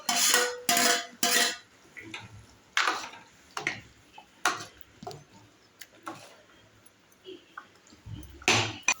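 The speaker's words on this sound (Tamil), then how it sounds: "அம்மா கத்தியில் கட் பண்ண சொன்னால் கரண்டியில் கட் பண்ணுறாங்க" A metal spoon cuts and scrapes through eggs in a pan, giving a run of sharp clinks and taps against the cookware, loud at first and then sparser and quieter, with no talking.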